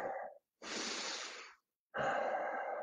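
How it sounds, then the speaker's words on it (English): Slow, close breathing during a cool-down stretch: an exhale, a long airy breath in, a pause, then another deep sighing exhale, quiet and intimate with no talking. "Breathing."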